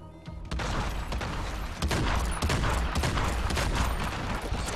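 A powerful gun fires repeatedly in Hitman Absolution, a loud, close, rapid stream of shots hammering steadily for several seconds with hardly a pause, heard on its own without talking.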